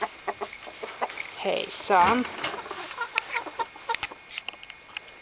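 A rooster clucking and softly squawking close by in a henhouse, with a brief greeting spoken over the bird sounds.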